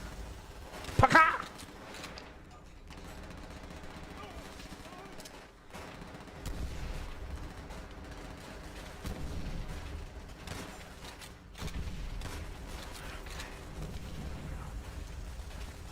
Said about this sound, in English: I haven't really heard a game yet capture just how crazy MG42s were when they fired.